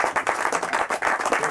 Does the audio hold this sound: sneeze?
no